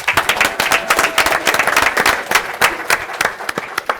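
Attendees at a city council meeting give a big round of applause, a loose, fairly small group clapping with distinct individual claps close by and no speech over it.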